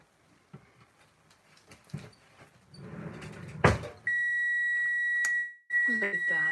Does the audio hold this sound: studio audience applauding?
no